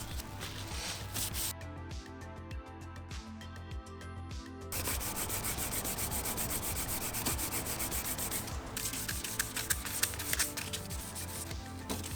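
Hand sanding a car headlight lens: close, rhythmic rubbing strokes with a gritty rasp, steady throughout with a brief pause in the middle.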